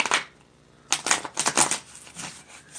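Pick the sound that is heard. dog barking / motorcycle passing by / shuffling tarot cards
shuffling tarot cards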